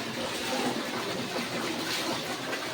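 Heavy monsoon-season water gushes steadily at a temple's hand-and-foot washing spot, a dense continuous rush filling the air with broadband noise and no break across the moment.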